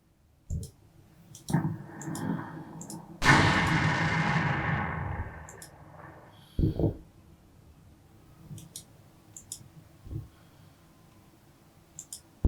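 Artillery and small-arms fire in the Combat Mission Final Blitzkrieg World War II strategy game: a sustained rumbling blast, then scattered thuds and single shots, mixed with sharp mouse clicks and no talk.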